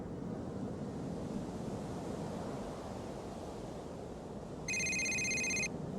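Telephone ringing in the video game Grand Theft Auto 4, a single electronic ring of about a second heard over steady wind or surf noise, with no talk.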